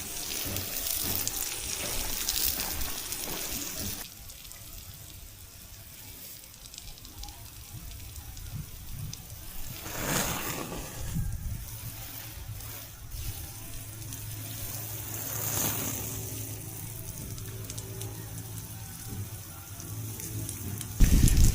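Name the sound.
water poured into a tank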